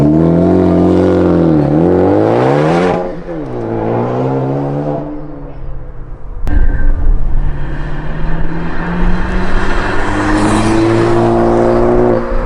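A Ford Focus ST with an aftermarket catback exhaust and stock downpipe revs hard with a deep, throaty note, rising and falling in pitch, then a sharp pop and sustained loud rumbling up close.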